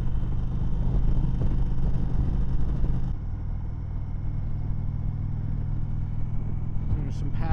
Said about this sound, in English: The engine just sounds louder.